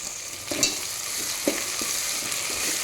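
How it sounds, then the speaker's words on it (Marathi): Onion, green chilli and curry leaves sautéing in a pan, a steady close sizzle with soft scrapes and stirring clinks over the frying. "आता यामध्ये ओली मिरची घालत आहे, ओली मिरची सुद्धा 2 मिनिट परतून घेऊ। कढीपत्ता घालत आहे।"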